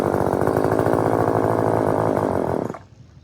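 A McCulloch Pro Mac 435 VC chainsaw, started cold, runs close by with a loud, buzzing two-stroke rattle for under three seconds, then quickly dies away to silence.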